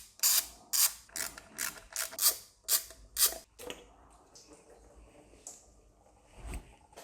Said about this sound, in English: then we'll remove the thermostat housing. And that's just 3 little bolts.